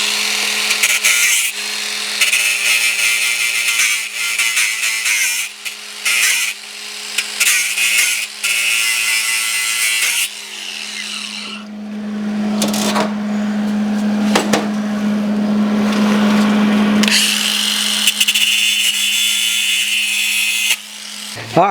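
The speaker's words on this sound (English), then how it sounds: "Let me hit these spots with the grinder just a little bit." An angle grinder works over weld spots on a heavy recovery winch, a loud high whine that bogs and recovers in short bursts as it bites the steel, then spins freely with a steady hum before trailing off.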